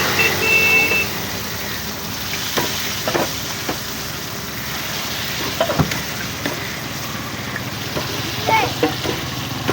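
Fish frying in a frying pan gives a steady, loud sizzle throughout, with a few clinks and scrapes and faint background noise.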